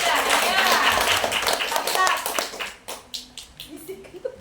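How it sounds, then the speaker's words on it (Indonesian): Children in a classroom clap their hands together, a lively burst of many small claps with young voices chattering, thinning out into a few scattered claps toward the end. "Tepuk tangan dulu guys."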